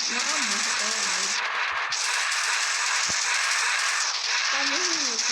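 Dense, steady gunfire from the video game Zobiarena runs through the whole stretch, loud and continuous. A voice-like tonal warble shows up near the start and again near the end.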